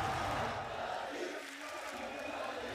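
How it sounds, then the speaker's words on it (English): An esports arena crowd at the VCT Champions Istanbul 2022 Valorant match cheers for Fnatic, a broad roaring wash of voices that stays steady and loud throughout. "So the crowd getting behind Fnatic right now, certainly giving them energy."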